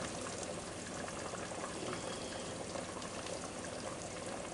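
Cornmeal batter spooned into a pot of hamburger vegetable soup that is not yet quite hot, giving a steady wet bubbling and liquid sloshing that stays fairly loud and even throughout, with no talking.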